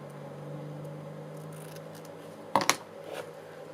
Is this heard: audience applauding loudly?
no